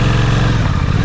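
A Suzuki GSX-8S 800 cc motorcycle engine accelerates in a loud, steady, close roar with a throbbing low rumble, no voice over it.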